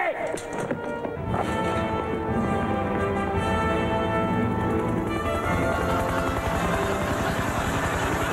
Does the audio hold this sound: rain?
no